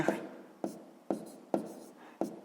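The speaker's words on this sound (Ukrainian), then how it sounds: "То ми записуємо мінус." Pen strokes on paper while writing out a minus sign in a sixth-grade math exercise: five short scratchy taps in a steady rhythm, close and quiet, with no talking.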